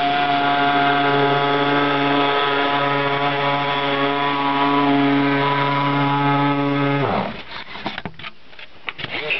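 A Dremel rotary tool cuts through styrofoam packing material with a loud, steady high-pitched whine for about seven seconds, then winds down and stops, leaving quieter scattered handling noises.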